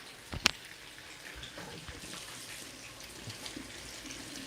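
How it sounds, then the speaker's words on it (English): Tap water runs over an onion and carrot being washed at a kitchen sink, a brief louder splash near the start giving way to a steady, faint trickle for the rest. "It's gonna wash off the onion a bit."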